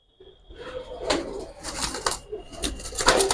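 A pair of old-breed Jabra-style pigeons coo and rustle nearby in soft, repeated bursts over a steady low background murmur.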